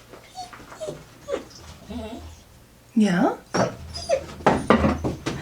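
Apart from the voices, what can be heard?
puppy whimpering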